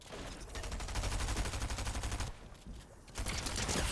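Rapid submachine gun bursts in Fortnite, a dense continuous stream of shots with a short pause near the end before firing resumes.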